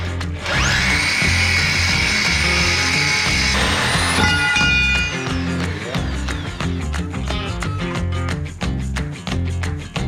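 A power tool cuts into the body of a Toyota FJ Cruiser during a bumper trim and body mount chop. It opens with a loud, sustained whine that climbs and holds, then breaks into rough, rattling cutting and clatter that continues to the end.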